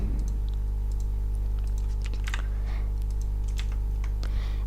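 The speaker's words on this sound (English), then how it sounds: "you may hear me clicking away at my keyboard also, because I'm clearing aircraft and things like that" Computer keys click and clatter in quick irregular bursts as someone types while running an air traffic control simulation for Sydney airport, over a steady low electrical hum.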